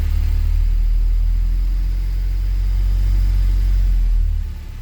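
A Honda CRX with a K24 engine settling back to idle after a throttle blip, a loud, deep, steady low rumble that drops off near the end.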